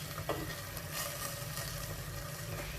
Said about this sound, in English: so I'm just going to give it one more stir